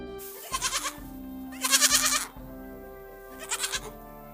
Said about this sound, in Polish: To zwierzątko to na pewno koza.